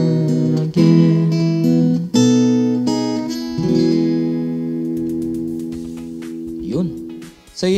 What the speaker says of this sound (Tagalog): So yun yung tunog ng Cool Music BP60D na nakatutok lang yung mic and directly